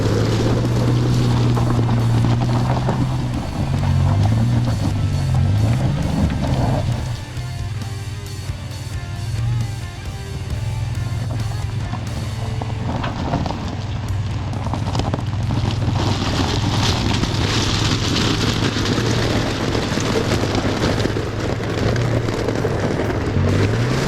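A third-generation Toyota 4Runner grinds up a steep gravel pile, its engine droning loud and steady under heavy wind buffeting on the microphone, with the pitch wavering and dipping briefly midway.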